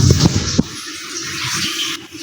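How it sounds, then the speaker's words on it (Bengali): Rice and lentils being rinsed in water for cooking in a home kitchen, a loud continuous rush of running and sloshing water with a few splashy bursts near the start, no voices. "তো রান্না করার জন্য চাল ডাল সব ধুয়ে নিচ্ছি।"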